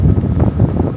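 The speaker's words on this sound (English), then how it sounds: "It's right on the bow of the ship, so it's quite windy" Strong wind buffeting across the open bow deck of the cruise ship Navigator of the Seas, a loud, steady roaring gust battering close to the microphone with no pauses.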